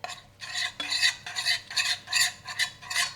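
Glutinous rice flour paste, with a spoonful of cashew butter added, is mixed by hand in a bowl, giving rhythmic, wet scraping strokes, about six in a row, close and fairly loud, with no voices.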